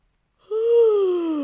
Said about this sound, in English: So let's start with a good yawn stretch.